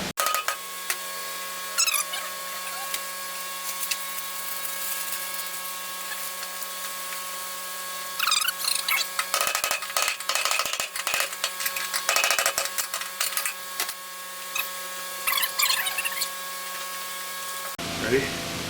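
A metal nibbler cuts a ring on a Ford F-350 fuel system part, giving repeated rapid buzzing, chattering bursts of moderate loudness over a steady background hum, with pauses between cuts.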